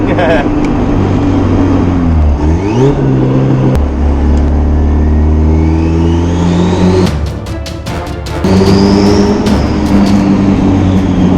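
A twin-turbo Honda Civic on the street accelerates hard under boost. Its engine drone climbs steadily through the gears, with a brief dip and crackling stutter at the shift, all loud and from inside the car, with talk mixed in.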